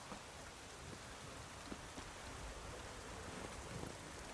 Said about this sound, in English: Nice how it's raining on them immediately upon getting their village back.